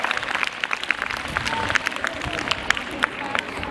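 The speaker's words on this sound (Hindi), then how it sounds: "सब ताली बजाओ। Please clap for her." A group of schoolchildren applauds a classmate, a brief burst of scattered, uneven hand claps filling the room at moderate loudness, with some background chatter.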